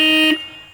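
A Hero Xpulse 200 4V motorcycle horn gives one short, steady, loud electric blare up close that cuts off abruptly, leaving quiet background.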